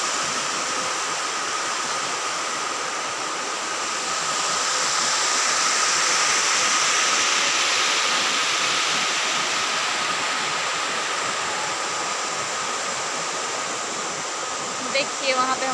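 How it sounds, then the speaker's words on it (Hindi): Mirchaiya Falls in Latehar gives a loud, steady rushing roar of falling water, unbroken and close, swelling slightly midway, with a few faint clicks near the end. "देखिए इधर झरना पानी"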